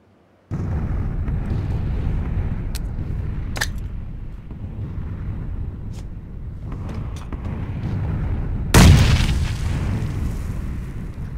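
A grenade goes off in a first-person shooter: a single loud, sharp blast late in the clip over a constant low game rumble, with a few faint clicks and taps before it.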